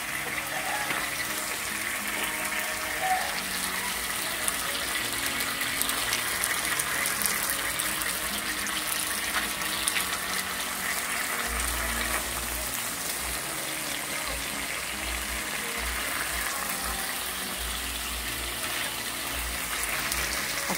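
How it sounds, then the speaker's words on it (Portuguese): Water is poured gradually into a galinhada of chicken and rice cooking in a plow-disc pan over a wood-fired stove, giving a steady, fairly loud rushing gush with faint sizzling and a low rumble joining partway through. "Aqui vai colocando a água aos poucos para ela ir cozinhando."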